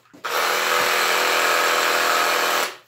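A Makita reciprocating saw, brushed and rated at 3,000 strokes per minute, starts up and runs steadily for about two and a half seconds, a loud continuous buzzing whine that cuts off at the end.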